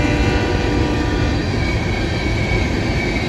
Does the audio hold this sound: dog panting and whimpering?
no